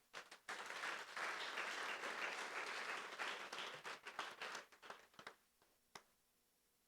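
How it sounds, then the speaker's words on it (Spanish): A church congregation breaks into sustained applause that stays full for several seconds, then thins into scattered, separate claps before dying away. "Si usted lo entiende, dile un aplauso al Señor."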